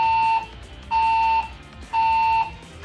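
A building fire alarm sounds three long, loud electronic tones at an even pace, each lasting about half a second and separated by short gaps.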